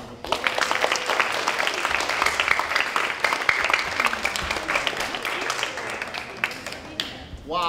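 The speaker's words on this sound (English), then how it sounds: "how about another round of applause?" A middle school assembly audience breaks into another round of applause: close, sustained clapping with voices and cheers mixed in, fading near the end as a speaker resumes.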